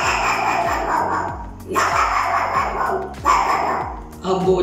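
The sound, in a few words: man imitating a puppy barking at passers-by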